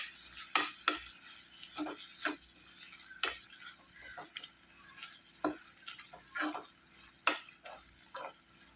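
Chilli powder and turmeric are stirred into a Kerala-style shallot curry in a pan, with a soft steady sizzle under repeated sharp spoon scrapes and taps against the pan, close and fairly quiet.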